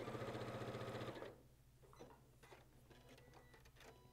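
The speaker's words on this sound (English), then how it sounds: "so I'm just going to go ahead and stitch these all together real quick" A sewing machine stitches quilt pieces together, running in a fast steady whir for about a second before stopping, followed by faint handling clicks and rustles.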